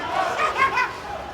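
Wrestling crowd in an arena giving a mixed reception to a wrestler, a swell of shouts and jeers rising and falling in a brief burst of crowd noise.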